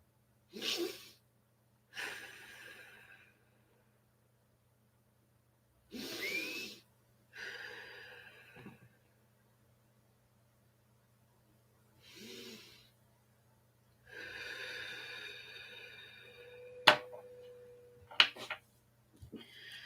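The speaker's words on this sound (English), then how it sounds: "let's drop in with 3 cleansing breaths. Inhale through the nose, exhale through the mouth." Deep cleansing breaths during a guided mindfulness session, each inhaled through the nose and exhaled through the mouth, slow audible airy breaths separated by quiet pauses, close and soft.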